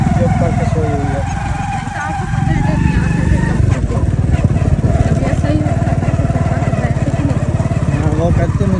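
A motorcycle engine drones steadily at close range while riding on a road, a constant buzzing hum with slight shifts in pitch, and people talk over it.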